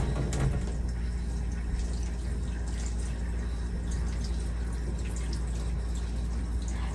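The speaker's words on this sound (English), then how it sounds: "rinse hands and wrist thoroughly, keeping hands down and elbows up" Hands and wrists rinsed under a running tap during a handwashing demonstration: a steady, close rush of water that continues evenly throughout.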